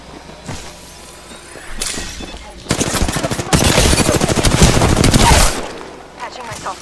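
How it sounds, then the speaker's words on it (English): Bursts of rapid automatic gunfire from the Apex Legends video game, starting with scattered shots and building into a dense, loud fusillade of rattling fire before tapering off, with a voice talking intermittently. "Opening fire. They spotted me. I'm taking shots."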